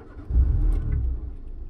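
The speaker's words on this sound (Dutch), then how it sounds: "ik moest de auto in principe al starten van Ro" A car engine cranks and catches, then settles into a low, rumbling idle nearby, a short burst of mid-pitched motor sound with no talking.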